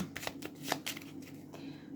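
Playing cards are riffled and shuffled in quick fluttering bursts, close and fairly soft.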